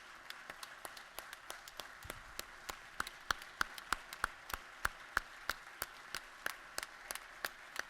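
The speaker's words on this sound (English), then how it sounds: "let's give him a round of applause" Applause in the Georgia House chamber comes across as steady, moderately distant clapping from a crowd, a rhythmic patter of sharp claps lasting the whole stretch without talk.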